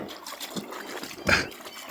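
Creek water trickles and gurgles softly on a day hike in the Panther Creek Wilderness while a dog drinks, with a brief louder splash midway and faint murmur throughout.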